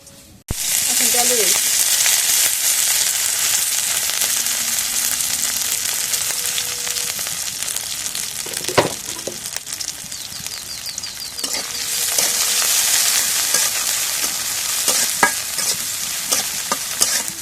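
Okra and green chillies sizzle steadily in a hot wok with oil, stirred now and then with scraping clatters, a continuous close frying hiss throughout.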